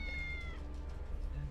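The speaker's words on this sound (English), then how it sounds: "I'm sure that's a cat meowing" A cat trapped inside stuck armor in a video game gives a faint, muffled meow over a low steady background hum, brief and soft.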